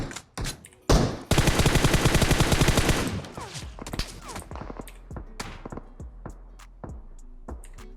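Rapid automatic gunfire in PUBG Mobile, a loud sustained burst followed by scattered single shots and short volleys at varying distances, with no talk over it.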